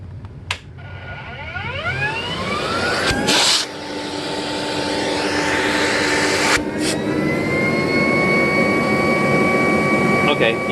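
A Rainbow E2 Black vacuum cleaner runs loud and close during a suction test at the end of its hose, a steady roaring whine with rising pitch sweeps as it spools up and brief changes as the hose opening is blocked.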